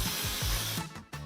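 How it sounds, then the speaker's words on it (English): An airbrush sprays white colouring onto a chocolate mould, a steady close hiss that cuts off near the end with a brief pause before resuming. "All right, last touch, we spray white."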